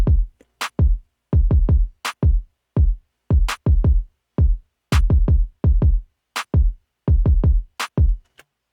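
A drum beat of punchy booming kicks, mostly in quick clusters of three or four, with sharp bright hits cutting in between, processed with an SSL EV2 equalizer; loud, close and alone with no voices.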